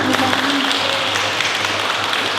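Audience applause at a school debate final fills the space as a steady, dense wash of clapping, with a low electrical hum underneath and no voices.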